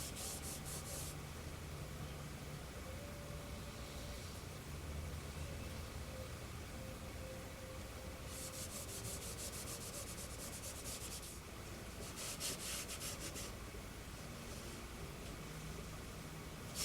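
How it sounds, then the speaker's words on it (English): Light, steady rubbing of 800-grit sandpaper over a part of a Moebius Models 2001 EVA pod kit, a soft, continuous scratchy sound with a few brighter strokes, close and quiet throughout, without any talking. "I might go over it lightly with a little 800"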